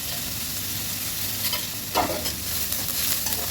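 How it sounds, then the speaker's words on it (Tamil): Two dried red chillies and curry leaves sauté in hot oil in a pan, making a continuous loud sizzle with a few stirring scrapes and no voices. "நல்லா அதை வதக்கி விட்டுக்கிட்டு இருக்கணும்."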